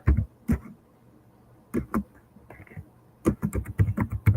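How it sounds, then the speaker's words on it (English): Bursts of keystrokes on a computer keyboard come in short separated clusters, close and clear, ending in a quicker run of taps, with no voices over them. "just typing in"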